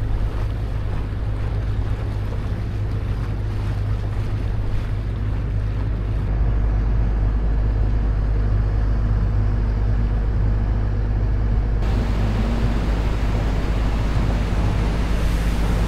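A motorboat runs through a no-wake zone in the archipelago sea, a constant low engine drone mixed with rushing water and wind buffeting the microphone, loud and steady throughout.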